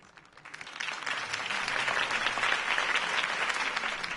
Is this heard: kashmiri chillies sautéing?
no